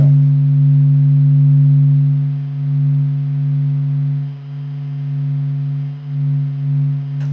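A recording of sound from space, likened to the sun, carries a loud, steady, low humming drone with slight swells and dips throughout, and no voices.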